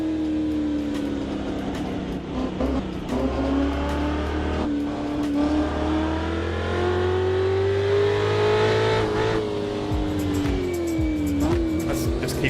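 A historic V8 race car in Assetto Corsa roars close up, its engine pitch rising and falling through gear changes, with tire squeal on corners and a sustained loud drone throughout.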